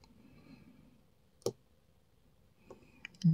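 USPS postal lock being picked with a shallow pick, giving a single faint click followed by a few tiny ticks and a soft rustle near the end.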